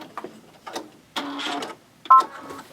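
A Baby Lock multifunction sewing machine runs briefly for a single stitch, giving a short mechanical whir with a sharp click or beep at the end, heard alone and close up.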